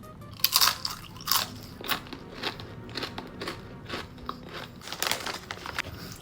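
Cheese-flavored kangkong (water spinach) chips are bitten and chewed up close, with sharp crisp crunches in an uneven rhythm of repeated bites and chewing.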